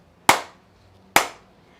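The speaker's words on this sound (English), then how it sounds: "And what you do is you clap, and then you have your arms out." Two sharp hand claps, close and loud, spaced just under a second apart in an otherwise quiet room.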